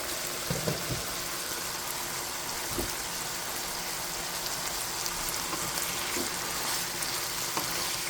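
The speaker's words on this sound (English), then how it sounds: "When you start to sizzle, like a frying sizzle, then I'll add the coconut milk." Pork adobo sizzles and fries in a pan, a steady crackling hiss with a few soft clinks of stirring, heard close and alone for about eight seconds.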